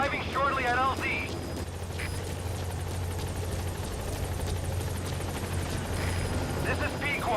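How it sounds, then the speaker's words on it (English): In the Metal Gear Solid V video game, a support helicopter arrives with a loud, steady rotor roar and deep engine drone that fills the whole scene, while radio-style voices talk over it near the start and end. "Support helicopter has arrived."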